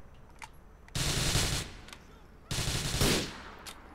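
Loud bursts of automatic gunfire from the Grand Theft Auto IV video game, two sustained volleys with brief pauses between them, close and dominant over a background of game ambience.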